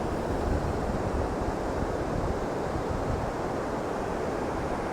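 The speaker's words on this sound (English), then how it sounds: "Some quite nice waves coming in here now." Ocean waves break and wash ashore at Famara Beach, Lanzarote, a continuous roar of surf with wind rushing across the microphone, steady and fairly close.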